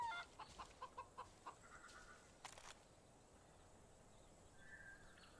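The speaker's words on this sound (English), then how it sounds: "Chicken." A chicken in the Far Cry 5 video game on PS4 gives a quick run of short, evenly spaced clucks, faint against quiet outdoor game ambience, followed by a few softer calls.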